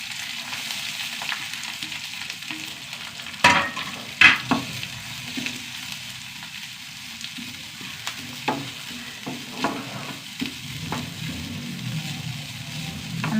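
Chillies, cumin and coconut dry-roasting in a pan give a soft steady sizzle, broken by a few sharp scraping knocks of the stirring spoon against the metal.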